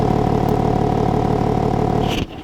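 A 2026 BMW M4 Competition idles with a loud, steady low rumble from its exhaust, heard close and even throughout before cutting off abruptly near the end.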